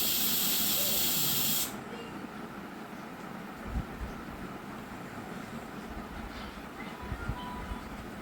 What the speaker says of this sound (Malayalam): കുക്കർ രണ്ടാമതും ഫിസിലടിച്ചിരിക്കുന്നു